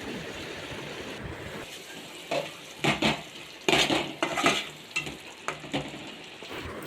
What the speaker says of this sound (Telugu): ఇలా బాగా అయ్యాక పచ్చిమిరపకాయలు, కరివేపాకు వేసుకోవాలి ఫ్రెండ్స్. వేసుకొని 1 నిమిషం పాటు వేయించుకోవాలి.